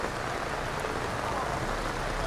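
Steady rain falling outdoors at a cattle buying trip, a dense, even hiss of drops on surfaces that stays constant and close throughout.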